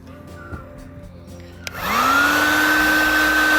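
A heat gun switches on partway through with a click and spins up into a steady loud blowing whine, used to heat and soften paint on a bicycle frame, after quieter background noise.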